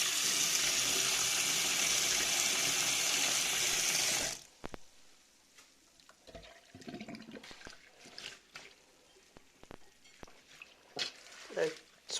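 Tap water runs steadily and close into a kitchen sink while food is washed, a loud hiss for about four seconds before it shuts off, followed by quiet handling sounds and someone speaking.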